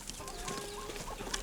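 Farm chickens cluck faintly in scattered short calls against a continuous ambient outdoor background.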